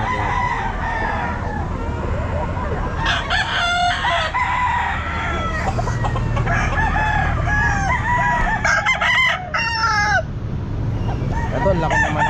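Several roosters crow in turn, loud and close, with clucking hens and chatter underneath throughout at a pet market.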